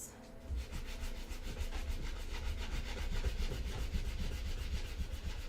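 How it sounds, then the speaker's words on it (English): Rhythmic back-and-forth scraping of sandpaper on wood, close and steady, repeated strokes for several seconds. "let me finish sanding these last pieces."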